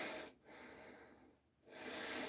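During a shoulders and traps gym workout, a person breathes heavily at close range, with loud breaths that rise and fall in a steady rhythm.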